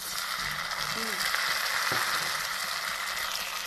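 Tomatoes dropped onto browned onions frying in a pan, a steady close hiss of sizzling oil with a brief clatter as they go in.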